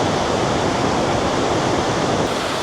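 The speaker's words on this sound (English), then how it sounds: "Look at these waterfalls." Waterfalls in Krka National Park, Croatia, give a steady, loud, broadband roar of rushing water that holds even and unbroken throughout, with no voices.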